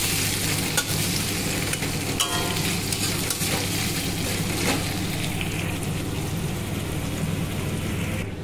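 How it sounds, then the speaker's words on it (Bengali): Onions frying in oil in a pan while a Bengali katla kalia is cooked, a steady dense sizzle that runs close and unbroken from start to finish, with occasional stirring scrapes and no voices. "চলো এবার পেঁয়াজগুলো লাল লাল করে ভেজে দেবো।"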